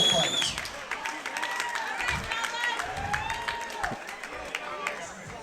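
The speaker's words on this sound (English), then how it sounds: "Let's give a round of applause for George Allen and Justin Zeno, your next title fight." An audience at an MMA title fight event applauds, a steady spread of clapping and crowd noise running beneath an announcer's amplified voice.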